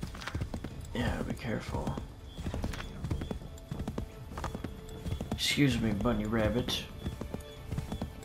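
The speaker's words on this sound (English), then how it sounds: "I'm riding a horse." Steady galloping hoofbeats from Assassin's Creed 3 run throughout beneath several voices talking, with a horse whinny partway through.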